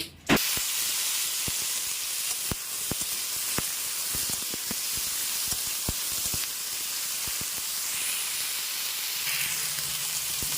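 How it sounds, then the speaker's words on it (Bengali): Potatoes sizzle steadily in hot oil after pointed gourd was fried in the same pan, a loud continuous hiss with scattered pops and crackles throughout, no voices. "এবার ওই তেলে আলুগুলো ভেজে নেব"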